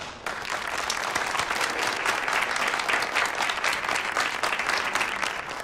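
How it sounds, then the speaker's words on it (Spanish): Sustained, loud applause from a studio audience, dense clapping that starts abruptly and carries on evenly throughout. "¡Aplauso!"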